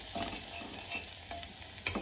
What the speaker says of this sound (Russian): теперь слегка его прожариваем